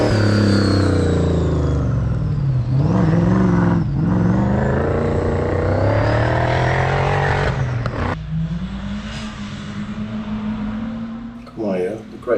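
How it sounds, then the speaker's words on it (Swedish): A diesel off-road racing vehicle at the King of Germany Ultra4 Europe event revs hard, rising and falling in pitch before settling into a steady drone, with people talking over it. "Det är ju en liten dieselpuff där, lite svart rök."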